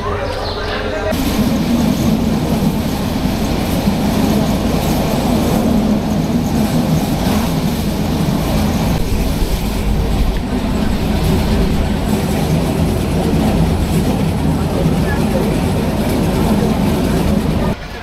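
Onboard the Chittagong Mail passenger train at night, a loud, unbroken rumble and rattle of the carriage in motion fills the whole stretch at a steady level.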